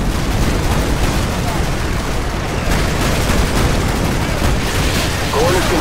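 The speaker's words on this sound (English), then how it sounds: "Artillery inbound." Artillery strike in Call of Duty Modern Warfare 2, a dense, continuous roar of explosions and heavy gunfire filling the whole stretch at high volume, with radio voices faintly mixed in.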